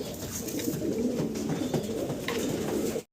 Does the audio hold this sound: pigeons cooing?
yes